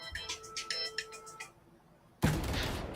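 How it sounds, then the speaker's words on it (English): A phone ringtone sounds during an esports match broadcast, a run of repeated bright electronic tones over about a second and a half, then a sudden loud burst of gunfire-like noise from the game. "Your phone is going off"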